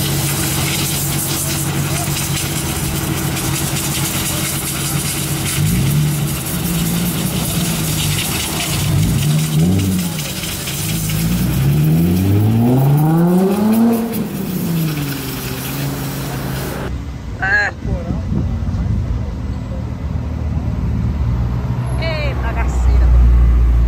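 A Mercedes car idles with a steady rumble, then revs in several rising and falling sweeps before a louder push of acceleration. People talk close by over the engine.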